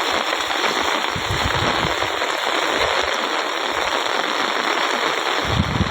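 Steady, loud rain hisses continuously, with heavy drops drumming on surfaces close by; no voices.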